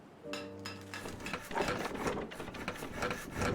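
Engines spin up in the colony-building game Timberborn, a rasping mechanical grind with a brief tonal hum at the start, then a steady scraping whir that grows slightly louder.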